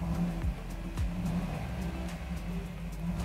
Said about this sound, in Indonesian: suara raungan V8 6200 cc-nya itu terasa memang kalau mobil ini bukan mobil yang sembarangan, intimidatif sekali